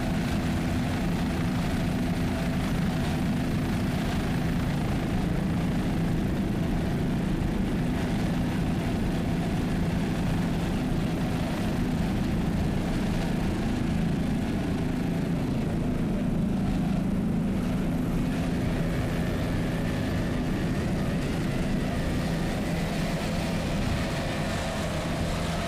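Super Cat Light Outboard racing powerboats run their outboard engines at the 2002 APBA World Championships, a continuous distant droning roar that holds steady throughout.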